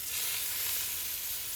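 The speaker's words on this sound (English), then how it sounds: "Oh, look at that sizzle." Salt-aged steaks sizzle on a hot griddle, a steady, soft, close hiss that runs the whole time without a break.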